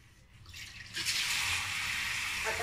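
Shower water starts running for a small chihuahua's bath, a soft trickle swelling after a second into a steady hiss of spray in a bathroom, fairly quiet and without speech.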